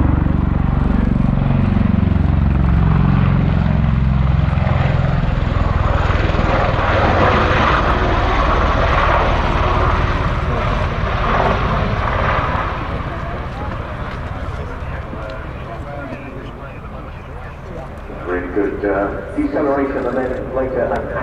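A loud rotor and turbine roar from a USAF CV-22 Osprey tiltrotor overhead at an airshow as it converts from plane to helicopter mode, its engine pitch shifting as it passes, with a commentator speaking throughout.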